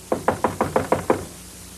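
Seven quick knocks rap on a door in a film scene, evenly spaced and close, fading slightly toward the end before quiet returns.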